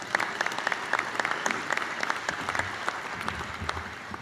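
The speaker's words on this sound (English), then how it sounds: "If you could give them a round of applause" A luncheon crowd at a chamber of commerce event claps steadily for its sponsors, a dense, even patter of many hands at moderate distance with no voices over it.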